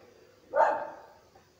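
A dog in the Cyberpunk 2077 video game gives a single loud bark-like yelp, rising suddenly and trailing off over about a second, with no talk over it.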